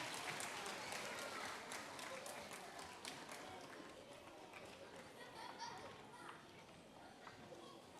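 A church congregation at a Friday prayer meeting claps after a children's performance, a dense, steady applause close by that slowly thins out, with murmured voices mixed in.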